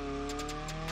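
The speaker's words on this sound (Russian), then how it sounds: "Так, прогреем резину" A car's tires squeal in a pulsing, rhythmic screech over a loud steady engine drone as the rubber is warmed up for a drag race in BeamNG, with a car running a Niva engine swap, close and continuous.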